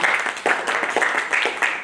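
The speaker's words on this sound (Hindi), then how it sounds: "एक बार जोरदार तालियां बजाइए" Audience clapping at a Hindi kavi sammelan poetry gathering in Sitapur, a fairly loud, steady patter of many hands that swells in short bursts throughout, with no voices over it.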